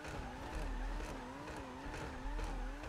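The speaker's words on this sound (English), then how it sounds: "Why are you hitting the rev limit?" A GTA 5 car engine holds high revs, bouncing against the rev limiter in a rapid wavering drone that stays loud and steady for the whole stretch, with no talking.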